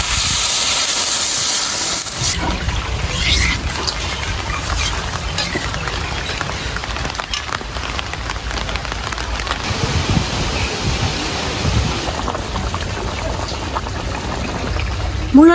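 Water pours with a hissing, steaming rush into a radish curry cooking in a pot, loud and close at first and then settling into a softer bubbling trickle.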